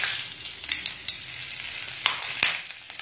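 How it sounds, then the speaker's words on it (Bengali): Two green chillies dropped into hot oil that has just fried vegetables on a high flame, a loud bright sizzle with sharp spits and pops, no voices. "এইবার ওই তেলেই ফোড়ন দিয়ে দেব 2টো কাঁচা লঙ্কা।"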